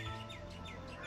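Birds chirping in a video game, a soft steady run of high tweets lasting about a second, fairly quiet throughout.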